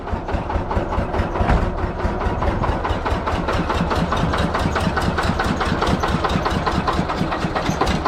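A small turbocharged motorcycle engine idles steadily with a fast, even chugging pulse, loud and close, with no voices.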